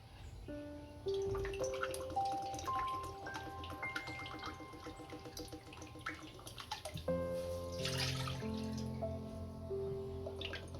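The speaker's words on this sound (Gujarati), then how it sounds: "આની અંદર 2 કપ પાણી નાખશું" Water trickles and drips steadily into a pan on a gas stove, two cups poured, with faint kitchen clatter and a brighter splash partway through.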